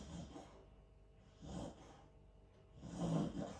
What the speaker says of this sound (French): Et le chien, il ronfle.